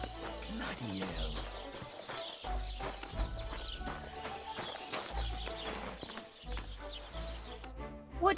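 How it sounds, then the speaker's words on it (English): Rhythmic horse hooves clip-clop through a busy soundscape in the video game Kingdom Come: Deliverance II, with music and ambient noise, loud and continuous, with brief voices mixed in. "Watch out for that horse!"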